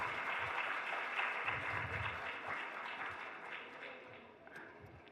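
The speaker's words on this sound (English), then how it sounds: "So a round of applause for all the teachers and the Prayag team." Audience applause at a school annual day event honouring teachers, steady dense clapping from a crowd that gradually tapers off.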